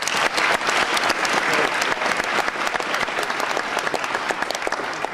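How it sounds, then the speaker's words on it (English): A banquet audience at an awards dinner breaks into full, dense applause, the many hands clapping loudly and evenly throughout without fading. "Let's give them another round of applause."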